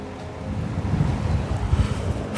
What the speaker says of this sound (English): it's windy down here